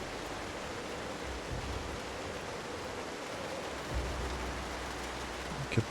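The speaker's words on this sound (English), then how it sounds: "As the rain comes down." Steady rain falls in Project Zomboid, a continuous even hiss of drops with no breaks, moderately loud and alone, with a faint soft thud near the end.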